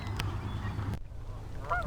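Geese honk on a river on a sunny day, a few loud nasal honks early on, then quieter calls after a short pause, with light background noise.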